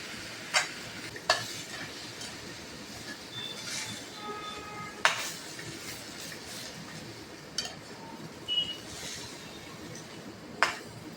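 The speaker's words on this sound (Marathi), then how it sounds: "तांदूळ छान असे परतून घेऊया." Rice with peas and carrots being stir-fried in a pan, with soft sizzling and a handful of sharp scraping clicks from the spatula spaced every few seconds.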